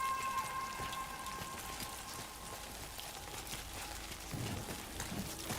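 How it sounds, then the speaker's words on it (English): Steady rain in the video game Death Stranding 2 patters on surfaces, a soft continuous hiss of drops with no talking over it. "I mean, this is BT rain."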